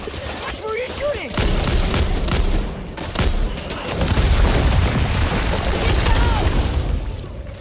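Gunfire in the zombie shooter Back 4 Blood, bursts of rapid shots and booms crackling over game noise, with voices talking at times.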